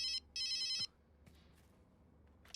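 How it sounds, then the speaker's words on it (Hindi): A phone rings twice with a bright electronic trill, each burst sharp and clear, then cuts off, leaving a quiet room with faint rustling and a soft click or two. "फोन बज रहा है तेरा?"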